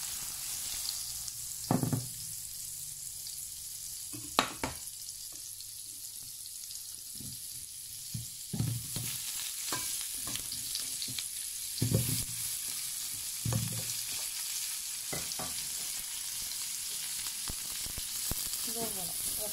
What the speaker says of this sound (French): Dans la même poêle, je vais rajouter du beurre. Et je vais faire revenir les petits oignons.